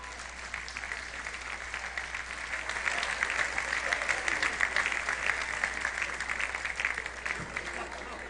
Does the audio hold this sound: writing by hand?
no